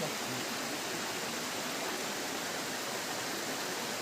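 Continuous heavy rain falls during a Ganesh immersion, making a steady, unbroken wash of hiss that neither swells nor fades, with no voices over it.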